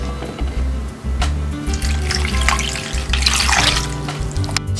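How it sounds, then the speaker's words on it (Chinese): Okra being washed in water after a five-minute soak, with splashing, sloshing and trickling tap-like sounds close up and no voices. "浸泡5分钟后洗净捞出"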